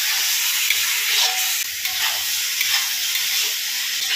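Leafy greens for a fourteen-greens dish fry in desi ghee, giving a steady, close hiss with faint stirring scrapes and no voices.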